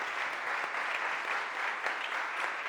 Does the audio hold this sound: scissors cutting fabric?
no